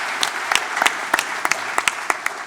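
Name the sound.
audience applause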